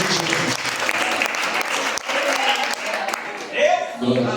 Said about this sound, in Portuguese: Você que pode aplaudir o Senhor nesta noite